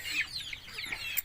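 Chickens cluck inside a coop after heavy rain and strong wind. Soft, close clucks and brief calls come in a quick irregular run of several notes over a low background rumble, with no voices.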